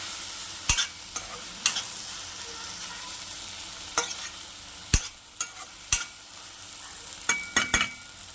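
An okra and tomato mix is stirred in a frying pan over a soft sizzle, with sharp scattered clinks of a utensil against the pan at irregular intervals.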